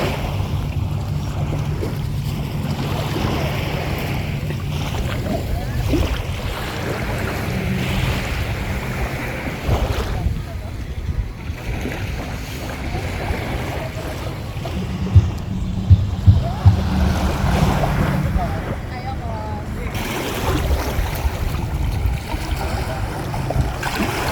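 Water at a family outing swimming spot, heard as continuous waves and splashing with gusty wind noise on the microphone, plus occasional louder splashes.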